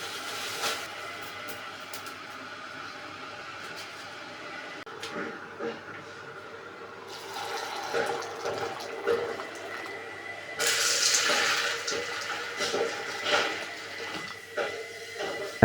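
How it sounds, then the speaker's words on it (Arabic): Warm water is poured from a tap into bowls of soaking split fava beans, chickpeas and wheat, a steady splashing run that grows louder and brighter partway through, with faint kitchen movement. "هغطيه ميه دافيه"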